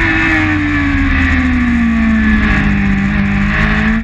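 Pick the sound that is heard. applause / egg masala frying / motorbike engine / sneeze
motorbike engine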